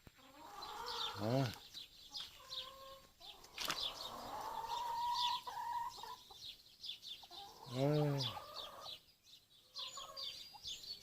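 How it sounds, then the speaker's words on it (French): Farmyard hens cluck and squawk as they come running in, with bursts of wing flapping and a few brief voices speaking nearby in a quiet outdoor setting. "Regarde les poules qui arrivent"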